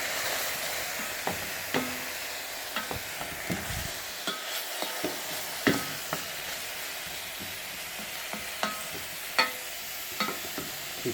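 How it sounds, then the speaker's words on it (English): Mushrooms and garlic sizzle steadily in a pan, a constant frying hiss broken by scattered clicks and scrapes of stirring, fairly close and with no voices. "my mushrooms and garlic are simmering away here"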